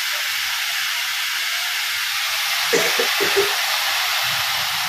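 Ginger and garlic sizzle loudly in a hot pan for a mushroom dish, a dense, steady hiss close by that carries on unbroken, with a brief low murmur partway through.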